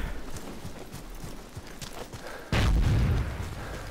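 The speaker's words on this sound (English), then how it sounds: "Another Michael Bay explosion." A deep, booming explosion erupts midway through a Battlefield 2 Nightfall 2048 mod battle, loud and low-heavy after a stretch of lighter clattering game noise.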